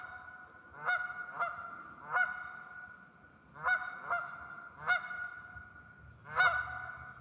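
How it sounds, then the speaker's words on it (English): Canada geese honk nearby, loud nasal calls coming in short bursts of one to three, with brief quiet gaps between the groups. "Canada geese stop fucking chirping."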